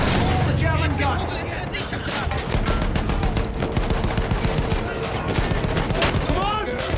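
German guns firing in the Battlefield 1 campaign, with dense continuous battlefield gunfire and booms filling the whole stretch, voices shouting faintly beneath the din.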